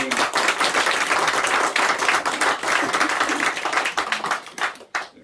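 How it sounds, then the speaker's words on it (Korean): At an Easter Sunday church service, the congregation claps in encouragement with full, lively applause for about four seconds. It then thins into a few scattered claps and stops. "우리 한번 늘 기도해 주시고 격려의 박수 한번 하겠습니다"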